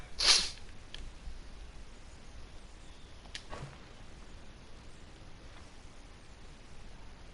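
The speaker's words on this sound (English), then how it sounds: "I feel a sneeze coming up again" A single sharp sneeze bursts out near the start, close and fairly loud, followed by a faint snort-like breath a few seconds later over a quiet, hissy background.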